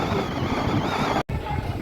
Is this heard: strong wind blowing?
yes